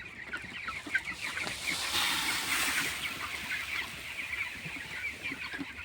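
Chickens cluck and murmur continuously at moderate distance around a feeder on a small poultry farm, with no talking.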